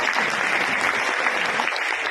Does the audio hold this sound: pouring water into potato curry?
no